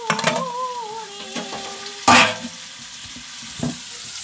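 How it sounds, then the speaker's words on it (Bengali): Potatoes fry in a pan with a soft close sizzle, broken by a few metallic clinks and one loud scrape of a utensil against the pan, while a brief tonal whistle sounds at the start. "দেখো বন্ধুরা আলু ভাজা বসিয়ে দিয়েছি"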